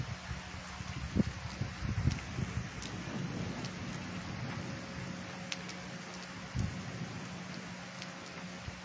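Heavy late-afternoon rain in Santa Bárbara d'Oeste, Brazil, a steady dense hiss of falling water with a low rumble beneath and a few sharper bursts, heard alone without voices.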